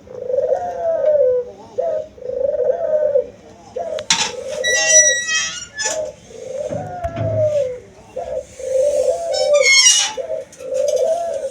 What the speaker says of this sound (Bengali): তো দেখলেন যে কি সুন্দরভাবে গুগুটা ডাকতেছিল।